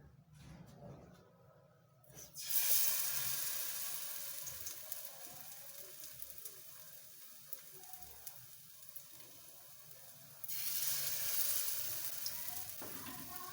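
Bread pieces sizzle and fry in hot oil in a pan, a steady loud crackle that swells when more bread is added, with brief quieter stretches and occasional stirring clinks.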